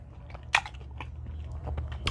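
Close, crunchy chewing and biting of potatoes with onions during a Dungeness crab mukbang with peppers and herbs, wet bites repeating in an otherwise quiet room.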